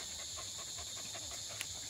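A dog pants quietly and fast in short, even breaths over two seconds against a steady high background hiss, with one faint click near the end.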